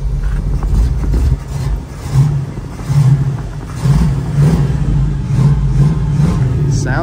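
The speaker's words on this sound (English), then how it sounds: "Rev it up again." A fully restored 1938 Ford pickup engine revs in a few rising and falling bursts, a deep low rumble close by, with people chatting over it between revs.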